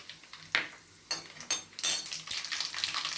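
Mustard seeds sizzling and crackling in a pan of hot oil for a pickle, with a steady hiss broken by several sharp bursts of popping that build toward a dense crackle.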